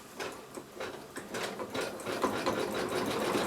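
Sewing machine stitching a roughly 12 cm fabric square onto a quilt block: a quick, even run of close mechanical clatter with rhythmic needle taps, continuous and alone.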